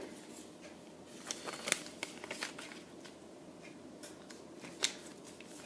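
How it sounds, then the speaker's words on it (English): A sheet of paper being creased and folded into an origami triangle book makes quiet, crisp crackles and brief rustling snaps that come in scattered bursts. "you're going to fold the right side down, this edge to this edge"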